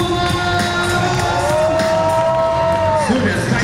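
A convention audience at a cosplay show for a Game of Thrones group, cheering and applauding loudly in a continuous crowd roar, with a voice over a loudspeaker on top.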